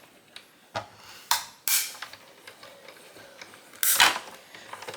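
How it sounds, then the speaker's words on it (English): A card-making die-cutting machine works through plates with a series of sharp mechanical clicks and creaks, a few louder crunching bursts scattered irregularly over a quiet background, close to the listener. "Put this through my machine."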